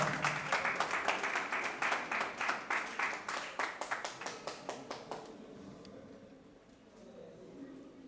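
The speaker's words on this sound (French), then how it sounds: "que je vous demande d'applaudir" A graduation ceremony audience gives a short round of rhythmic applause in a hall. The clapping stays steady, then thins out and fades to quiet room noise.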